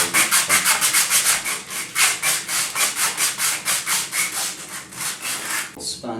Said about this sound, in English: I want to rough up the ABS so that way when I add my primer and my glue, it'll really bond well